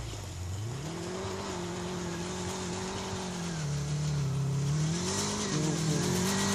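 A dune buggy with a Suzuki GSX-R600 motorcycle engine drones steadily as it drives, its pitch rising and falling gently with throttle, moderately loud and continuous without much talk.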